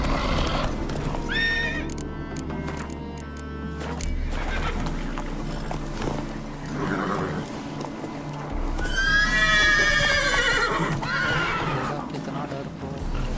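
A horse in the open-world video game The Witcher 3 gallops with steady hoofbeats and lets out loud, drawn-out neighs and whinnies, with other game sounds and a voice mixed in.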